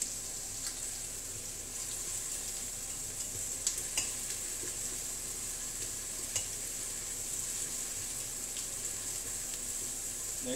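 Onions frying in a pan, a steady close sizzle with faint stirring and occasional small clicks of a utensil, continuous and even with no talking.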